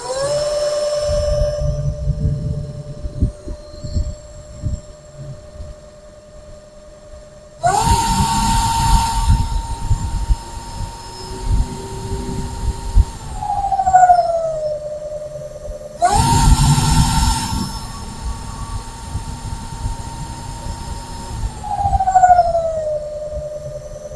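A Polytron electric motorcycle in D mode gives off a tonal electric motor whine that rises sharply three times with throttle, holds steady, then drops away, with quieter gaps between bursts.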